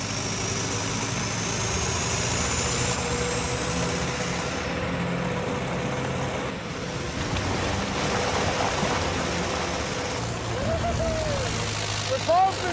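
A 6-inch water pump engine at a gold mine cut runs steadily at a loud, close drone, its revs climbing toward the end with a rising whine.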